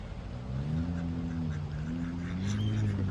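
A family of ducks swimming close by gives steady, overlapping low quacks and murmuring calls, continuous and fairly loud throughout with no talking.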